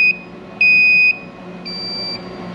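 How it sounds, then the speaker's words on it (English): A Midtronics GR8 battery charger beeps after a charge session is aborted: three steady electronic tones, one short, then one loud, then one longer, close and clear over a faint hum, with no speech. "There's that blue light and all that beeping noise."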